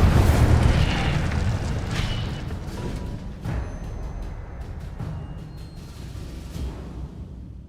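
An Incendio fire spell in Hogwarts Legacy bursts out as a loud, rumbling boom that fades over several seconds, followed by a few smaller crackling pops and bursts.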